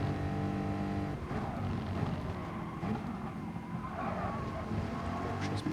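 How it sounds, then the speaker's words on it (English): Porsche race cars pass one another on a circuit during a Manufacturers Series round, engines droning loud and steady for several seconds with a brief rising surge near the end. "Porsches passing each other there"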